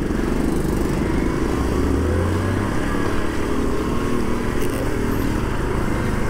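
A Honda Monkey 50 cc motorcycle engine hums steadily while being ridden, a continuous buzzing drone with wind rush and slight pitch shifts.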